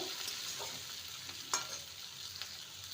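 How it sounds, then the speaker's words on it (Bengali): Chopped tomato stirred into frying methi leaves in a pan, giving a soft steady sizzle with light scraping strokes and one brief sharper clink near the middle. "সেই টমেটো দিয়ে দিলাম ভালো করে নেড়ে নেব"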